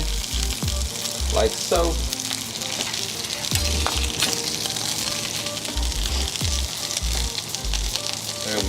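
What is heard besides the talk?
bacon strips sizzling on burger patties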